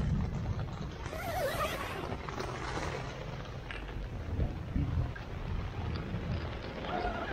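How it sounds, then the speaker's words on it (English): Cold rain from a thunderstorm beats steadily on and around a Sierra Designs Full Moon 2 tent, a continuous close rushing hiss with low rumbling gusts and no pause. "That's some cold rain."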